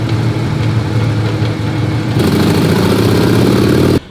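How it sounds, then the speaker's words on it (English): A 103 high output twin-cooled motorcycle engine runs on a dyno, loud and close, with a steady rumbling throb that rises in pitch and intensity partway through before cutting off abruptly. "We're gonna go ahead and get a base run on the dyno to see how much this 103 high output twin cooled motor is putting"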